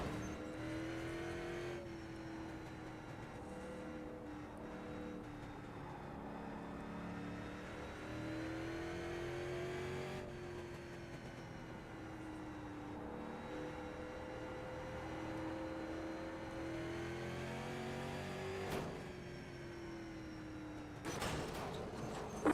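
Street stock race cars roaring around an oval track, a sustained engine drone rising and falling as cars rev and pass, with occasional sharper bursts near the end and no voices.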